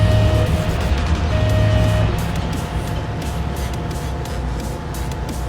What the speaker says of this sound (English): I think this car just completed a head-to-head, and they are driving away from where that other vehicle was.